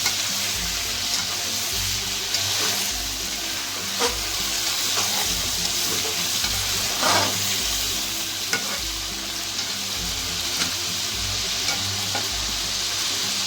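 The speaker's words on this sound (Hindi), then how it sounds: "हमने चिकन को अच्छे से फ्राई करना है" Chicken fries in a pot for chicken nihari, with a constant loud sizzle, a low pulsing hum beneath and occasional stirring clatter and scrapes.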